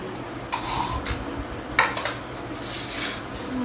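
Dishes and cutlery clink during a village family lunch of fried fish, fried pointed gourd, fritters, greens and dal, with a few sharp clatters over steady background noise and no talk.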